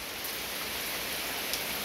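Rain falls in a steady, even hiss, heard from shelter under a porch, with a few brief drip accents.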